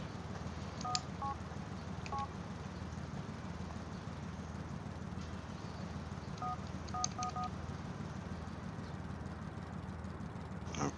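Phone keypad tones in the video game GTA IV: a few short beeps, then a quicker cluster of dialing tones, faint over a steady low rumble of traffic and engine noise.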